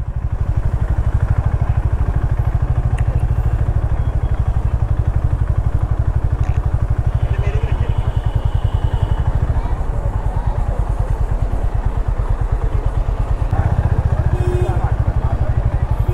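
Honda H'ness motorcycle idling and rumbling at low speed while being parked near the Taj Mahal in Agra, a steady close throbbing engine throughout with light clatter and some talk nearby.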